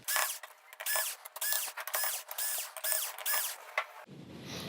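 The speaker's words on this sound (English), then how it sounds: "we are going to get the silver screws removed here from this plate that is covering the T-Con board" Silver screws being backed out of a metal shielding plate over the T-Con board of a Sony XBR-65X850E TV, giving close, repeated ratcheting clicks from a screwdriver in a steady rhythm, alone with no talk.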